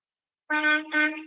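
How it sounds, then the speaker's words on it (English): A single truck air horn blasts twice in quick succession, a loud, bright, brassy honk with a short break between the two blasts. "hit that air horn for me if you can"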